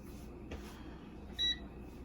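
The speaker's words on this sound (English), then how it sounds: "I'm going to hit the button that looks like a little French fry." A single short electronic beep from a Power AirFryer as its start button is pressed to begin roasting beef, a brief clear tone against faint kitchen room noise.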